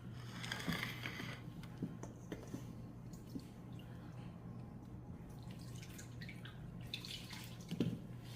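Water drips and trickles faintly as grated ash gourd is strained for sun-dried crisps, with soft, irregular drops and splashes heard close but quiet over a low steady hum.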